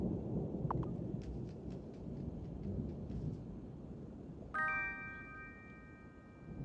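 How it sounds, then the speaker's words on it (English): Steady rain hiss with low rumbling thunder from a rainy day in the farming game Wylde Flowers, joined midway by a bright sustained chime tone that rings on over the storm. "it's very rainy"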